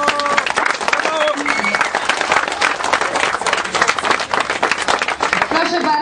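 Steady, loud applause from a crowd at a dragon boat racing award ceremony in Malbork, running the whole time with a few voices and cheers mixed in.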